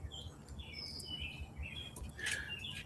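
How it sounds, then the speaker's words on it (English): Several birds chirp and tweet in the background on a cool morning outdoors, quick high calls scattered across a faint, steady ambient hum, no talking. "you can hear the birds in the background."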